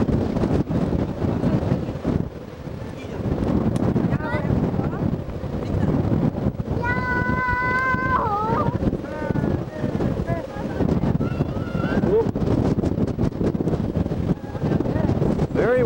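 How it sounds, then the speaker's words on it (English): Strong gusting wind buffets the microphone in a constant roar on the Hawaii coast, with rushing surf beneath and a brief whistling tone partway through. "windy here. I can hardly stand up."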